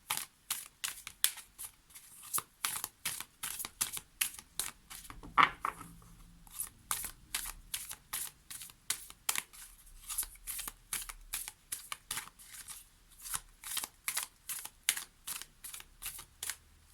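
Oracle cards being shuffled for a card reading, a quick run of crisp, rapid flutters and taps repeating steadily throughout, close and fairly soft, with no voices.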